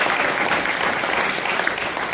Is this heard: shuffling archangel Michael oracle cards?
no